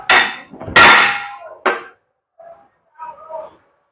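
Several sharp metallic hammer strikes on a broken steel axle half-shaft ring out up close, spaced irregularly, followed by a few fainter knocks.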